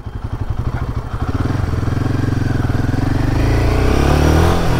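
A Royal Enfield Himalayan 450 motorcycle is ridden on a road, its engine pulsing in a steady throb that builds as it accelerates and revs higher, loud and close throughout with no talk.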